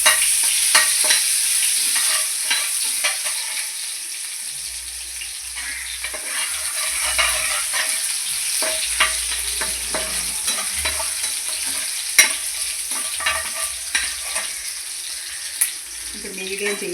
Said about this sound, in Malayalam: തീ കുറച്ചിട്ട് നമുക്ക് വെളുത്തുള്ളി ആദ്യമേ ഇട്ട് കൊടുക്കാം.